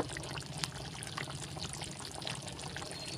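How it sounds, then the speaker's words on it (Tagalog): Vinegar is poured into chicken afritada as it cooks, a steady close splashing pour with faint bubbling underneath, lasting a few seconds and uninterrupted by talk. "lalagyan natin yan ng kaunting suka"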